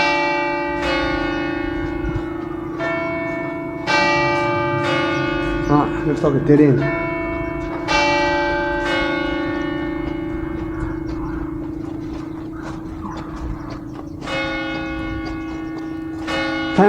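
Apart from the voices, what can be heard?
church bells ringing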